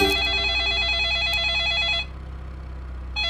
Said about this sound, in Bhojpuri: जीजा जी का फोन। उठाए बात करें।